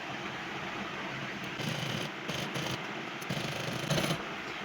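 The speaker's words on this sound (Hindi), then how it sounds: "अब यहाँ पर मैं इसको रखते हुए सिलाई लगाऊंगी।" A sewing machine stitches lace onto the skirt of a frock, a soft, continuous mechanical whir with a few slight surges in intensity, quiet and close, with no talking.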